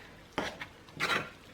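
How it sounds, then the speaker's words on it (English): Spoon working through pizza dough of flour and olive oil in a bowl, giving a couple of short scraping, clinking stirs close by, with quiet pauses between them. "So give it a good old mix up. Get all the flour from the bottom."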